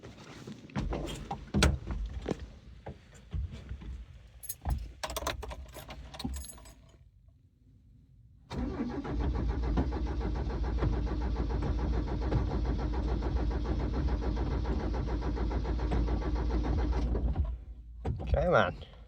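A Toyota six-wheeled truck engine is cranked after some handling noises, catches suddenly and settles into a loud, steady idle close by that carries on for several seconds before easing off.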